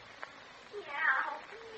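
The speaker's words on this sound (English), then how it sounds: "I said that was the cat." A cat meows from inside a closet in an old radio drama, a single drawn-out mew rising then falling, heard clearly at moderate volume with no talk over it.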